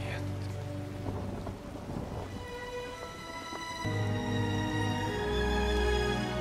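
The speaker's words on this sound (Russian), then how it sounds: "дождь идет уже долго" Rain falls with rolling thunder during a stormy scene in the animated film Megamind, a steady wash of rain with low rumbles swelling louder toward the end.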